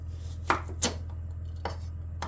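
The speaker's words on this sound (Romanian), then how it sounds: "Am terminat de tăiat cartofii" Potatoes cut with a knife on a board in a home kitchen, four sharp separate chops over a low steady hum, close and clear, with no voices.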